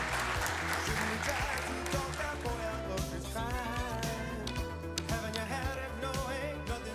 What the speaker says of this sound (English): How about a big round of applause for Mr. Mark Young?